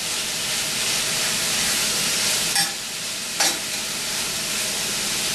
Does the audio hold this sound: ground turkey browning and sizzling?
yes